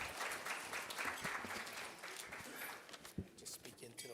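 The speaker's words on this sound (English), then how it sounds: "Give her a round of applause." Applause from an audience at a planning meeting for the 150th Battle of the Little Bighorn in Rapid City, as a young participant in the 500 sacred hoop run comes forward; steady clapping under talk that thins out near the end.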